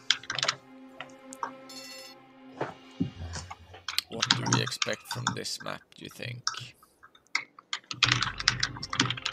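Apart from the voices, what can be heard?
computer keyboard typing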